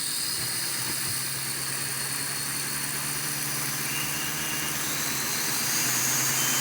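Several motors of a La Trax Alias quadcopter drone spin at once, a steady close whirring hum with a high-pitched whine that grows slightly louder toward the end.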